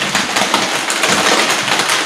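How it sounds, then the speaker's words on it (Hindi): Steady rain falls at night, a dense, even hiss with faint patter, fairly loud and close, without any talk over it. "बारिश हो रही है।"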